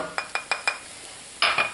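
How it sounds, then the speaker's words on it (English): A utensil stirs flour in a pan for a roux, tapping the pan in four quick, evenly spaced clinks, then a pause before two more louder scrapes, all fairly close and quiet. "Lower the heat down. We're making our roux."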